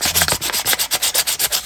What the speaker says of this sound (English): Grab my sandpaper.